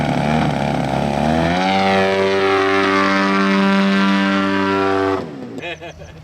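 A brand-new ZDZ 180 engine on a 3D RC model airplane at a fly-in: a loud, close, buzzing drone that climbs in pitch and holds steady before abruptly cutting off near the end.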